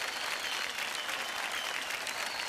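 Steady applause from an audience at a televised awards show, dense and even throughout the short stretch without any talk over it.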